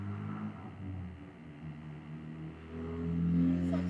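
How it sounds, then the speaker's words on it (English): A motorcycle going by outside, a steady engine drone with low rumbling harmonics that builds toward the end as it passes nearby, heard alone. "Fucking motorcycles."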